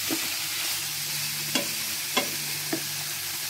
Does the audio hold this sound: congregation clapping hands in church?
no